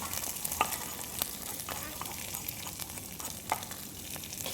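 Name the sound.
stirring onions and potatoes frying in pan with spoon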